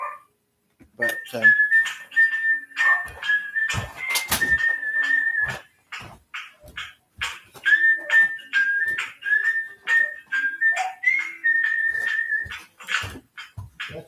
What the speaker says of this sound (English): that's the way the dog's talking to us.